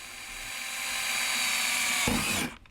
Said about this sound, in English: So I'm doing the pilot hole now.